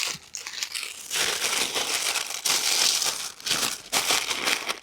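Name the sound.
crinkling and wrinkling of tape and paper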